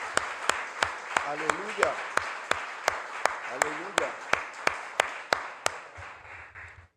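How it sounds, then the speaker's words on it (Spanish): A church congregation claps in a steady, evenly spaced rhythm, sharp distinct beats repeating for several seconds, while voices call out briefly over the clapping. "Le damos un aplauso al Señor."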